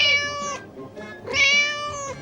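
A cat meows twice, two clear, close, drawn-out calls with a short pause between them, with no talk.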